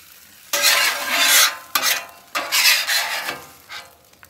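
Eggs scrambled with vegetables in a breakfast pan, stirred in loud bursts of scraping and sizzling with brief pauses between strokes, close and clear with no talk.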